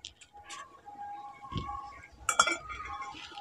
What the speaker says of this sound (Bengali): এখন উনুনটা ধরিয়ে দিয়েছি, এবার একটি কড়া বসিয়ে দিচ্ছি।